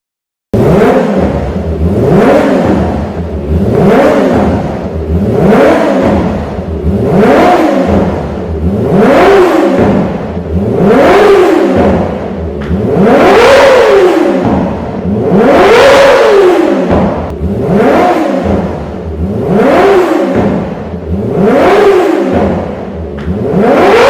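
A Kawasaki Ninja ZX-25R sport motorcycle's high-revving exhaust rises and falls in repeated throttle blips, loud and close, with rhythmic surges throughout and no talking.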